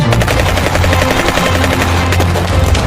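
Bursts of automatic gunfire from an action movie trailer, fast rattling shots packed densely over a continuous low rumble, loud and steady throughout.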